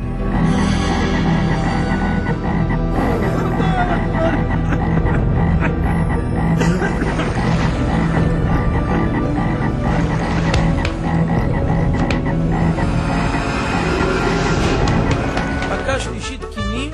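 Frogs croak in a dense, steady chorus through the full stretch, loud and continuous, with some broadband noise mixed in.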